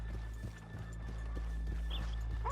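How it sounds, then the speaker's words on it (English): Horse hooves clip-clop at an unhurried walking pace in Red Dead Redemption 2, soft and steady over a low ambient hum, with a brief faint whinny-like sound near the end. "let's leave the horses here off the main drag"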